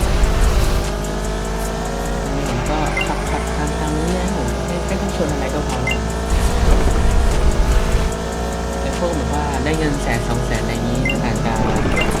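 Cars race in the Roblox game Drive World, their engines droning steadily and shifting pitch as they accelerate. Tires squeal now and then, and the noise stays loud and continuous for the whole stretch.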